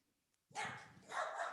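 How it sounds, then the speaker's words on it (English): A dog barks in the background of an online panel meeting, two loud close bursts of barking right after a quiet stretch, with no talk over them. "Oh, and there goes my dog."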